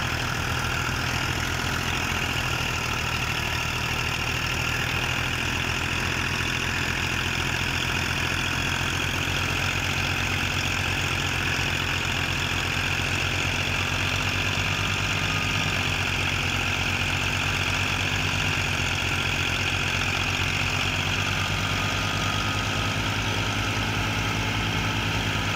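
A 2012 Fiat 480 tractor, set up with a thresher and a 96 cutter, idles with a steady, loud low engine drone that stays constant throughout, with no voices.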